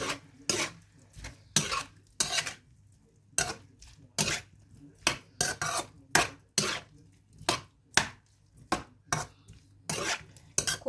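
Bamboo shoot soup ingredients stirred in a pot: a steady series of rhythmic scraping clinks of a utensil against the pot, each stroke distinct and fairly close.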